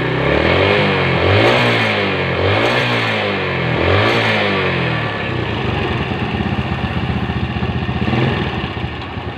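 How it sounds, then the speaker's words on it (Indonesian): A Yamaha Jupiter Z motorcycle engine with a rattling front end runs loud and close, revving up and down in three swells before settling into a fast, ticking idle. "suaranya agak kemelitik ya di bagian depan. Motornya juga ngatur."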